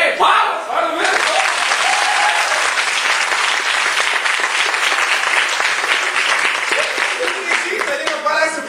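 Loud, sustained applause from a comedy show audience fills the whole stretch, dense clapping from a large crowd with a brief burst of voice at the very start.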